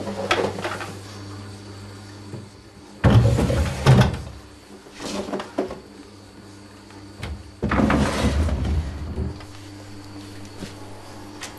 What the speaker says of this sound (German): Wenn die Schubladen wieder an ihrem Platz sind, ist diese aufwendige Restaurierung endlich fertig.